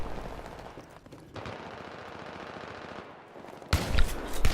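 Bursts of rapid gunfire in Battlefield 3 multiplayer, with a sharp louder volley near the end; no talking.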